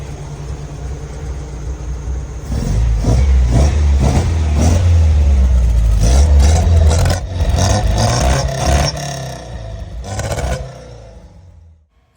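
A 1977 MG MGB engine with probable vacuum leaks starts up and runs close by, its low idle broken by a series of sharp revs, then the sound fades toward silence at the end.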